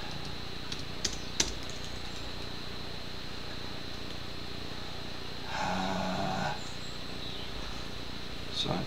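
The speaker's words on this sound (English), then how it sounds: "Showing you how little I'm able to type." Light, sparse key taps on a computer keyboard, faint and close against a steady background hiss, with a few isolated clicks.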